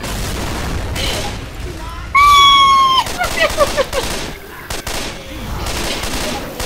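Gunfire aimed at a zombie in Left 4 Dead 2, with repeated sharp shots and bursts scattered through a busy game mix, a loud tonal alarm-like tone partway through, and voices talking over it.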